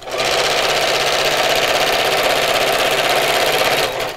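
Loud and close, a sewing machine runs in one continuous fast burst straight across the bottom of a fabric Christmas gift sack, whirring evenly for about four seconds before stopping.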